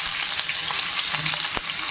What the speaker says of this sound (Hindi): हमारा ऑयल गर्म हो चुका है, इसमें हम सबसे पहले प्याज डालेंगे।